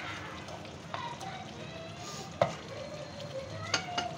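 Peeled tomatoes are added to frying onions in a pan, making a soft sizzle broken by a few sharp utensil clinks, while a voice talks quietly over it.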